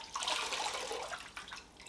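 Water splashes and drips briefly and softly as a soaked knitted piece is raised out of a basin during wet blocking, trickling back down.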